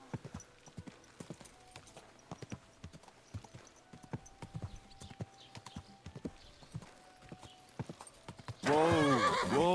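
Horse hooves clip-clop steadily in Kingdom Come: Deliverance 2, a run of distinct close footfalls with light game ambience, ending in a sudden loud burst of noise.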